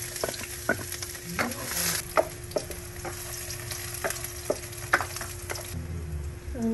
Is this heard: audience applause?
no